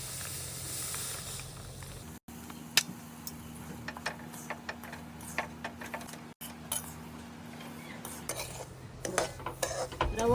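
Half a kilo of semolina roasting in four spoons of ghee in a pan, stirred with a spoon that scrapes and clinks against the metal in irregular taps over a soft steady hiss, close by.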